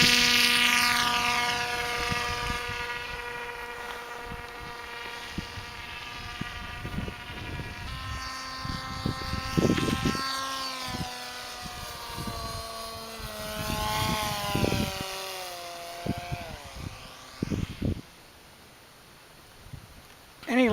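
An ArcBird-equipped Axon heavy hauler multirotor drone flies nearby with a steady, loud buzzing rotor whine whose pitch rises and falls as it maneuvers, continuing throughout.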